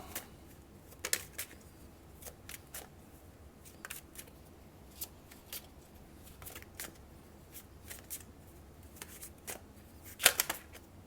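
Tarot cards are shuffled and handled quietly at close range, soft irregular riffling clicks and flicks scattered across several seconds, with a brief louder flurry near the end.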